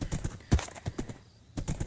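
Horse hooves clip-clop in the Minecraft video game, a quick run of close, distinct hoofbeats with a short pause before the steps resume.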